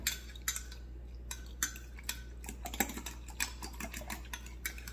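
A fork stirs a yeast mixture in a bowl, giving quick, light metallic clinks and taps against the sides in an uneven rhythm, close and soft over a low steady hum.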